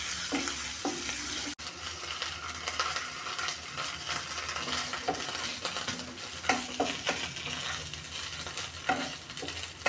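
Onions frying in a pan with ginger-garlic paste, a steady close sizzle with repeated scraping stirs of a spatula throughout, no voices.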